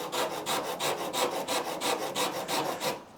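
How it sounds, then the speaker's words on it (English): Rhythmic rasping as a Shinto rasp is drawn back and forth across wood while shaping the curve of a guitar body near its binding, about a dozen even, close strokes in a steady cadence. "And as I do the Shinto, you can see the different colours here."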